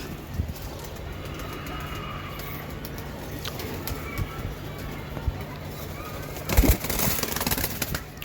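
Red patti Giribaj pigeons cooing softly over a steady hum, with a louder burst of noise near the end.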